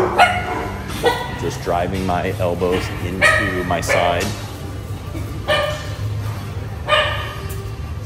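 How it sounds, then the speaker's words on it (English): Several dogs bark in repeated sharp bursts at a home workout space, some yips and whimpers mixed in, fairly close and loud while someone speaks over them. "My dogs are barking while I'm doing this."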